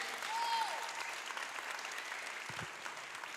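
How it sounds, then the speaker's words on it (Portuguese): A church congregation applauds during a sermon, a soft, distant and sustained wash of clapping heard faintly throughout. "Vamos aplaudir o nome do Senhor aí."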